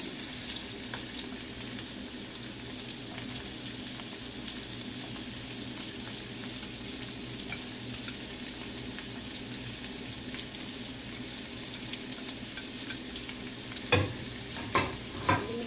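Onion sizzles faintly in a pan alongside tofu, bell pepper and tomato, a low continuous frying hiss with gentle stirring, then a few sharp knocks of the utensil near the end.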